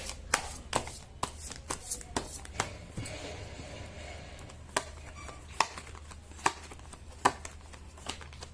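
A tarot deck is shuffled by hand up close, giving crisp, irregular snapping flicks and riffles with soft card rustling between them.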